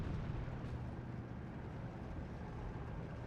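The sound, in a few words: 81mm mortar fire in SD 2 video game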